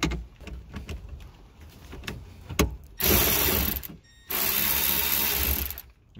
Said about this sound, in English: We're using a 10 millimeter socket.